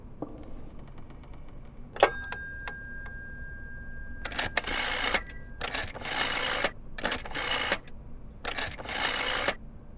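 A telephone rings in the horror video game Layers of Fear. A short electronic chime comes first, then four loud bursts of ringing in a steady rhythm, close and alone over a low background hum.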